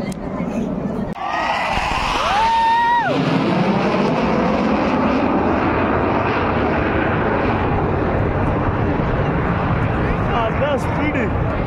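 An Indian Air Force jet roars loudly overhead at an air show in Chennai, Tamil Nadu. The pitch sweeps sharply as it passes, then settles into a sustained, rumbling engine drone.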